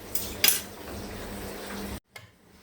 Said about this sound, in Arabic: غادي ناخد الصفايه غادي نصفي هاد الماء هذا نخويه هنا بالصفايه